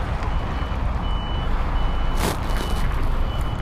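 A lorry reversing outside a commercial building, its reversing alarm sounding a steady series of evenly spaced beeps over a constant rumble of engine and traffic noise.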